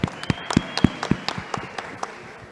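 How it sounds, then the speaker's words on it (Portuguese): Applause from an audience at a blockchain and tokenization business event, heard as a short run of loud, separate claps that thin out and fade within a few seconds. "Uma salva de palmas aí"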